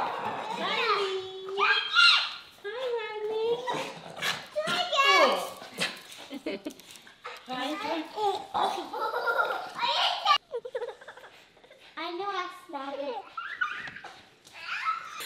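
Excited dogs greet a family returning home, with yips and whines mixed among children's excited voices, giggles and laughter, close and lively throughout.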